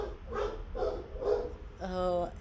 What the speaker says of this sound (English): there's a dog walking outside, so my dog is going nuts.